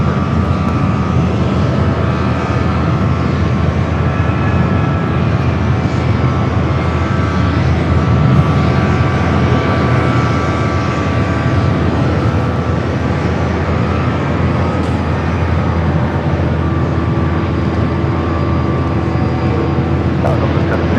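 Airbus airliner landing on runway 24 right at Los Angeles airport in light turbulence and a 230-degree wind at 10 knots, heard as a steady, loud, broad jet roar that fills the whole stretch without letting up, with radio-style talk over it.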